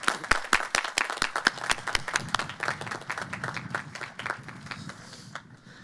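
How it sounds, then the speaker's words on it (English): A commencement audience claps for a graduate, starting as sharp separate claps close by and thickening into scattered applause that tapers off toward the end. "I invite you to join me in applauding Alice for her inspirational accomplishment"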